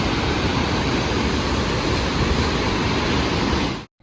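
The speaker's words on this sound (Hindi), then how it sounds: "ये इतने नदी का इतना तीव्र बहाव है ना ये" A fast, forceful river rushes steadily and loudly near a trekking trail by Ghamshali village, a dense unbroken roar of water that cuts off abruptly just before the end.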